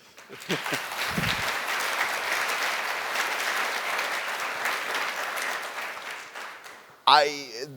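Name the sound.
audience applause at conference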